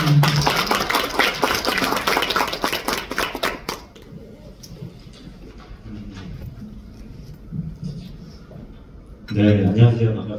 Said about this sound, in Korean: 박수로 무대에 모시겠습니다